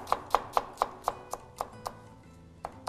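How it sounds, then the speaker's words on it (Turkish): An onion being finely chopped with a knife on a board, about ten crisp, evenly spaced chops close by with a short pause before the last two. "soğanımızı ince ince doğrayalım"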